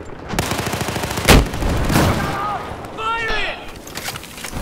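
Gunfire from the Battlefield 4 beta on the Shanghai map, with sharp game shots and blasts bursting out amid loud, overlapping shouting from several players.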